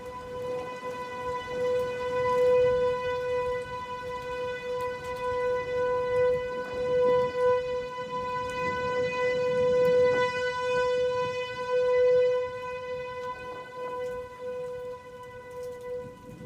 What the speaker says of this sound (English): That is a tornado siren.